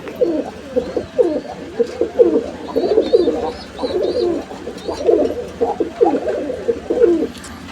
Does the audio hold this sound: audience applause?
no